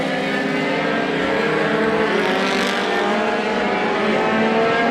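Mini stock race cars roar around the track at Claremont Motorsports Park during a feature race, a loud, continuous engine drone with layered revving pitches that swell slightly midway.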